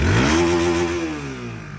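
Honda RS motorcycle engine revving nearby, a loud buzzing rev that holds steady then eases off over under two seconds, no talking.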